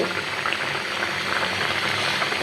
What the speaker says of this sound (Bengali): সঙ্গে আমি যে ডাল রান্না করতেছি